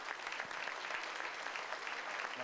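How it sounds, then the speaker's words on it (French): Steady, dense applause from an award ceremony audience fills the room, continuous and even throughout without any talking over it. "Je vous demande de l'applaudir."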